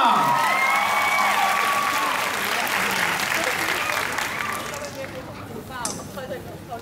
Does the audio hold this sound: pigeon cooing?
no